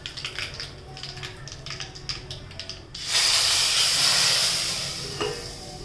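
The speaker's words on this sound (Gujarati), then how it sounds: "અને હવે આપણે કરી દઈશું વઘાર." Ground coriander, cumin and asafoetida go into hot oil to temper dal. After a quiet stretch of faint clinks, a sudden loud, sustained sizzling hiss bursts up and holds, then slowly fades.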